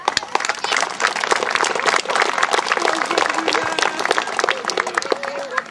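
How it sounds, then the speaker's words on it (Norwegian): Dense audience applause at a local community gathering in Balestrand, Norway, with many hands clapping steadily and close for the full stretch, a voice or two faintly mixed in. "Så en applaus til deg også."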